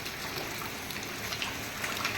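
Heavy rain pours down in a village, a dense, steady hiss of drops on surfaces, even and continuous throughout with no voices.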